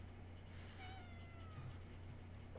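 A cat meows a few times in the horror game Conarium, thin drawn-out cries over a low steady hum and faint ambient drone, quiet and with no speech.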